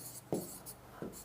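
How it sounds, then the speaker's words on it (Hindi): Chalk or marker strokes on a classroom board during a Hindi grammar lesson, two short quiet scratches about a second apart in a hushed room. "जैसे मैंने यहां पर लिख दिया"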